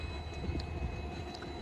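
An Indian Railway locomotive on a trial run in Biratnagar, Nepal, idles with a steady low engine rumble and hum, constant and fairly near, with no voices over it.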